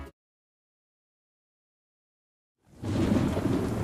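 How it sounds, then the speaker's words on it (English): Heavy rain pours down with rumbling thunder in a radio ad. A brief sound cuts off, then near-silence holds before a loud, dense wash of downpour and low rumble swells in and continues steadily. "Man, it is really coming down out there."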